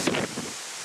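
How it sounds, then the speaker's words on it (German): Strong storm wind buffets the microphone outdoors, a loud rushing roar of broadband noise that fills the short moment with no voice over it. "ihr könnt mich hören wegen dem ganzen Wind hier"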